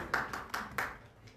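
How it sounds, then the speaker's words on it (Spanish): Students in a physiology class give a brief round of applause, just four sharp hand claps in quick succession, fairly quiet and fading out. "Bravo, un aplauso."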